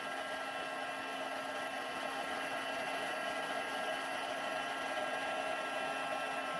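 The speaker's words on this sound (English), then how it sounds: "bringing in the heat tool" Steady, even whir of a heat tool blowing hot air onto embossing paste during a crafting session, loud and close, holding at constant pitch and level throughout with no pauses or talk.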